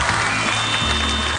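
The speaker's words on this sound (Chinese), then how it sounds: "我们用掌声再一次感谢金贤重今天来到我们的 高高" Studio audience applause on the Chinese variety show Happy Camp, a brief, dense burst of clapping that fills the room at steady loudness.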